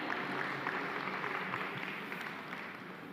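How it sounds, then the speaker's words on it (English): Faint, steady applause from an audience at a startup festival, a continuous patter of clapping heard from a distance with no talk over it. "Let's give him a round of applause"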